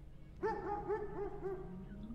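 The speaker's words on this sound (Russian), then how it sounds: "Собаки, собаки лают." Dogs bark in a quick run of several yelping barks in an abandoned orphanage setting, moderately close and fading over two seconds with no talk.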